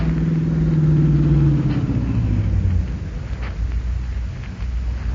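A getaway car in a staged film scene rumbles up loud and close, its engine note descending as it slows, then settles into a low idle rumble.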